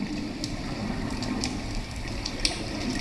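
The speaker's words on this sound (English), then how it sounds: "This is the sound of the ocean outside the observatory." A hydrophone just outside an underwater observatory's windows picks up the ocean as a steady low wash and rumble, with scattered faint clicks and crackles popping up throughout.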